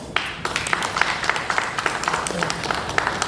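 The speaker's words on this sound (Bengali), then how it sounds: "আপনাদের জন্য আমাদের পক্ষ থেকে একটা করতালি" Audience applause at a drama festival in Chandannagore rises as a steady round of clapping from a modest crowd, with individual sharp claps standing out close by and murmuring voices underneath.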